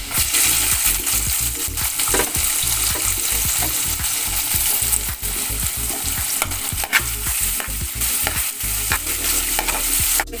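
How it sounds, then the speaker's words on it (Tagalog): Garlic sautéing in hot cooking oil in a Filipino home kitchen, a loud, steady sizzle and crackle with frequent scraping stirs of a utensil against the pan throughout, no voices. "Mag-gisa na tayo, guys. Sa bawang."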